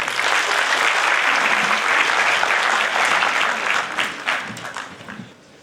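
Audience at a felicitation ceremony applauds in a loud, dense wash of clapping that holds steady, then thins and fades away over the last couple of seconds.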